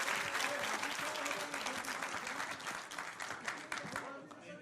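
Studio audience at a televised Hindi debate show applauding steadily, a dense wash of clapping that holds loud for several seconds and then thins and tapers toward the end.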